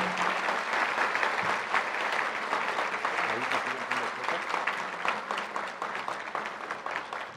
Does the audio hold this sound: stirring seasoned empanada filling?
no